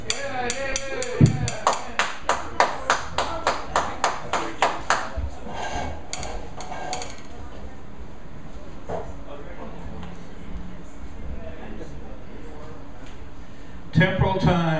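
Brief round of applause from a small open mic poetry audience: about fifteen evenly spaced sharp claps, mostly from one person, fading into room noise before a voice starts speaking near the end.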